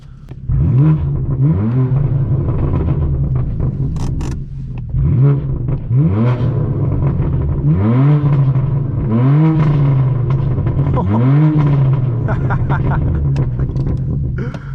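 A straight-piped BMW M4 F82 accelerates hard on mountain roads, its loud exhaust rising through repeated rev sweeps with sharp shifts between them, close and raw, with no voices over it.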